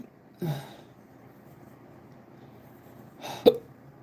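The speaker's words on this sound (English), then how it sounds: "Sorry, I got the hiccups." Two sharp, abrupt hiccups from a person, close and fairly loud, spaced about three seconds apart against a quiet background.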